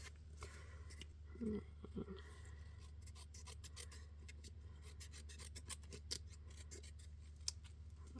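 Scissors cut decoupage paper around the edge of a wooden door hanger in soft, scattered snips and rasps, faint and close over a low hum.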